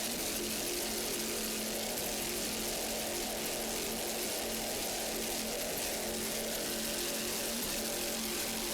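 A 38-foot Fountain powerboat racing at the 2004 Dania grand prix in Dania, Florida, gives a steady, loud engine drone with a constant hum and broadband roar held throughout, no voices.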